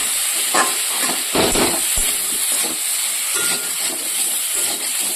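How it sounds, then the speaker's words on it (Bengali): Potato and cauliflower lightly frying in a pan, giving a steady broad hiss with a few soft knocks and bumps from the pan. "আলু ফুলকপিটা একটু হালকা ভেজে নিচ্ছি"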